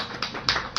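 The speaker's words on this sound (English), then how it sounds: "They are all clapping like this." Three sharp hand claps spaced about a quarter second apart, close and fairly crisp, with no talk over them.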